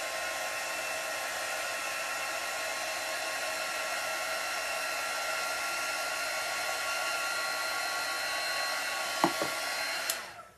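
A heat tool runs steadily for about ten seconds, drying a mask on a seahorse painting in an ocean-themed art piece, a constant loud whirring blow that cuts off at the end with a couple of small clicks.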